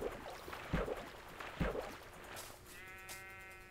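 Minecraft sheep bleating in-game, a couple of short nasal bleats at moderate volume, followed by a sustained tonal hum or chime near the end.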